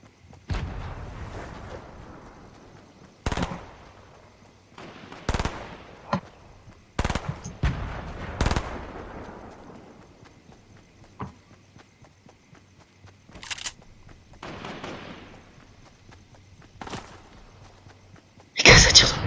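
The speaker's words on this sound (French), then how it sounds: "Les gars, ça tire dans tous les sens." Gunfire in the Fortnite video game: scattered sharp shots and short bursts with pauses in between, some close and loud and others quieter, mixed with softer footstep-like game sounds.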